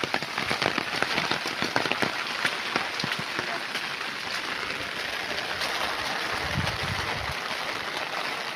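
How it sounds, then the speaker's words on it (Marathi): Rain patters steadily on a surface, a dense even hiss with scattered sharper drops, fairly close and continuous, with a faint voice briefly underneath. "बघा कसा पाऊस पडताना सुंदर नजारा आहे"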